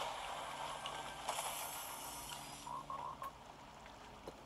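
Frogs croak in a Fortnite match, a steady chorus of repeated croaks over outdoor ambience, with a few brighter calls near the end and no talk.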